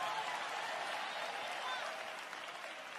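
A church congregation applauds at a Sunday morning service, a steady broadband wash of clapping from many hands that holds its level for the whole stretch and eases off slightly at the end.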